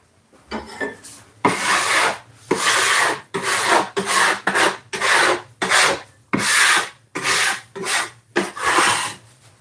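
A dough scraper working over a board while making Jamaican veg patties, with repeated loud rasping strokes in a steady back-and-forth rhythm and short gaps between them, close up.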